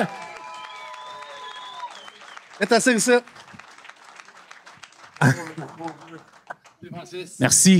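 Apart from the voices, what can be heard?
live audience applauding at a podcast Christmas party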